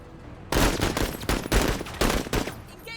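Gunfire erupts in the video game MENACE as several loud bursts of rapid shots, separated by brief gaps after a quiet start.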